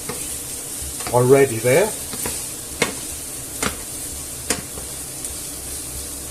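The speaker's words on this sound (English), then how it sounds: "So let's give these a mix." Sausages and chickpeas stirred in a sizzling frying pan, with a steady fry hiss and a few sharp scraping knocks of the utensil, briefly under a short spoken phrase.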